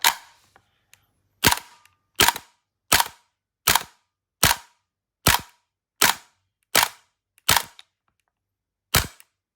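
A Krytac Kriss Vector gas blowback airsoft rifle with a spring mod fires about a dozen sharp, snappy single shots close by, spaced roughly evenly with a short pause after the first, each a crisp crack with quick mechanical recoil.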